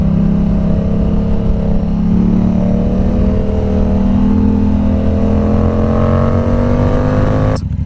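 A modded and tuned Yamaha R7 sportbike accelerating hard on a partly wet road, its engine note climbing steadily in pitch through a long, loud, close pull that cuts off abruptly at the end.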